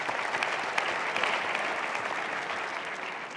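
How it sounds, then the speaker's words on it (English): Steady applause from an indoor audience at a panel discussion, a dense, continuous wash of many hands clapping at an even level for the whole stretch, with no voices above it. "you can applaud yourselves"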